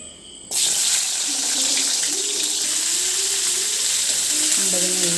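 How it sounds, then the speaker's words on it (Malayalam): Hog plums drop into hot sesame oil and set off a sudden, loud, steady sizzle that carries on without a break, close up, with faint tonal sounds underneath. "ആദ്യമേ നമ്മൾ അമ്പഴങ്ങ ഈ നല്ലെണ്ണയിലിട്ടൊന്ന് മൂപ്പിച്ചെടുക്കും. എണ്ണ ചൂടായി വരുന്നുണ്ട്."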